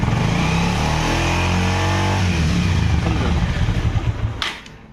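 A Bajaj Avenger 160 motorcycle engine revs loudly and steadily up close, its pitch climbing partway through, then the sound drops away sharply at the end.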